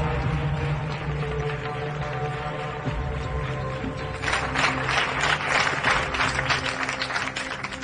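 Applause for a police commissioner at an indoor ceremony, a crowd clapping that swells to a fuller burst of claps over a droning music bed, with a voice speaking faintly underneath.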